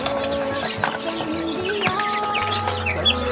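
Farm chickens cluck steadily and close by while feeding on homemade low-cost feed, with overlapping calls and soft rustling throughout.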